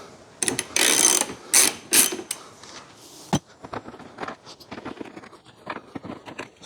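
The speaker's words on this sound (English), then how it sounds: "You can remove them easy enough with a 10mm, they're not on there too tight." A ratchet wrench with a 10mm socket loosens tail light nuts on a Landcruiser 200, giving bursts of close, fast clicking at the start, then softer scattered metallic ticks and handling noises.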